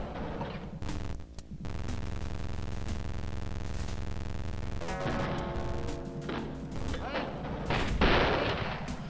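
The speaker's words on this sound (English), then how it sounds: "You tell Nessus, I'm shooting you in the back faster than you know anything happened." Rapid bursts of gunfire from the Wolfenstein video game, dense repeated shots with crashing impacts and game effects over continuous background sound, fairly loud throughout.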